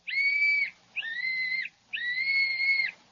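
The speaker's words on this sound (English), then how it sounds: "Blow the whistle quick, Jimmy." A small toy whistle sounds in a 1937 radio drama, three shrill warbling blasts in a row, each about a second long with short gaps, clear and close with no talk over them.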